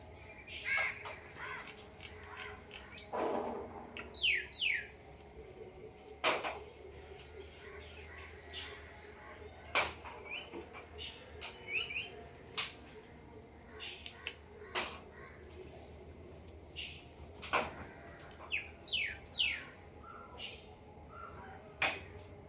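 Crows caw and other birds call around a java plum tree where they come to eat the fruit, scattered calls near and far over a quiet outdoor background, with occasional voices.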